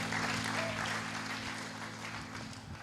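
Applause from a congregation in a church, a sustained wash of clapping that holds steady and slowly fades, heard at moderate distance with a low hum beneath.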